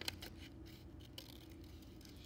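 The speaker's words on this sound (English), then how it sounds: "I'm going to cut them out." Scissors snip through paper while cutting out a drawn paper spider, a few quick, faint crisp clips and rustles close by with no talking.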